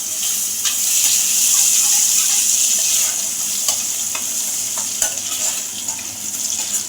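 Garlic paste sizzles loudly in hot oil with dried red chillies and panch phoron, a bright crackling hiss with scattered pops and scraping stirs close by.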